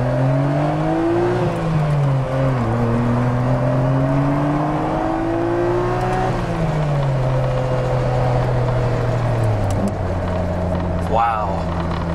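A Nissan Skyline GT-R R34 V-Spec II Nür engine revs hard and climbs quickly through the rpm in repeated rising pulls, loud and close, with a brief dip between gear changes.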